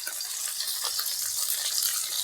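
Chopped onions sizzling in hot oil with fried spices for a Bengali bitter gourd, potato and eggplant chorchori: a steady, close, bright hiss of frying that holds evenly throughout with no voices.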